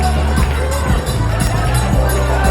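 A dense crowd of devotees at a Krishna temple in Gokul makes a steady, loud murmur of many voices, with scattered shouts and movement throughout and no single voice standing out.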